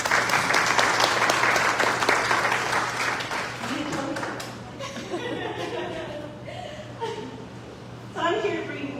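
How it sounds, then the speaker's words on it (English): Convention-center audience applauding loudly for about four seconds, the clapping then thinning into scattered claps, chuckles and crowd murmur, with a short burst of clapping near the end. "I'd like to give our leadership, Blake Henry, and my team at the CDB another round of applause for a job well done"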